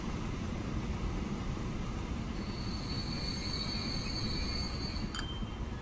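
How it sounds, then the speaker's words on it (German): A steel and coal freight train arrives in the Transport Fever video game with a steady, loud rumble of rolling wagons. High wheel squeals rise partway through and end with a short metallic clank, and no one speaks. "Da kommt ein Stahlzug, ein Kohlezug an."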